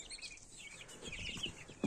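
Day-old Legbar chicks fresh from the incubator give soft, rapid high peeps and chirps, close and continuous, with a slight bump at the end.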